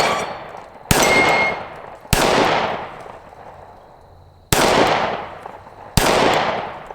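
A Smith & Wesson Shield Plus 9mm pistol fires four sharp, loud shots at uneven intervals, each crack followed by a long ringing decay outdoors.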